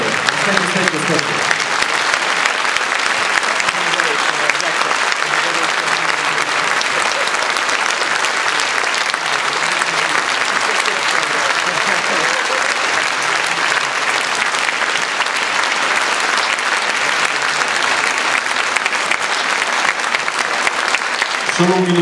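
Sustained, steady applause from a large theatre audience at a public meeting in Novara's Teatro Coccia, a dense, even roar of clapping that fills the room for over twenty seconds without a break.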